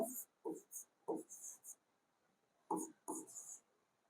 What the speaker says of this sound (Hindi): मिटा के फिर से लिखेंगे इसे